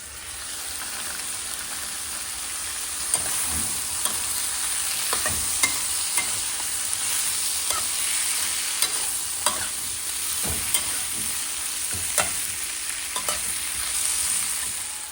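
Boiled chickpeas with chilli powder, Kashmiri red chilli and spices sizzle steadily in a pan, with repeated scraping stirs that knock against the pan throughout. There is no talking.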